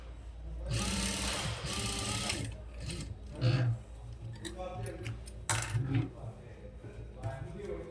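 A sewing machine top-stitches a chudi pant pocket in short, close mechanical runs of rapid ticking needle strokes, starting and stopping several times, with a voice faintly present between bursts.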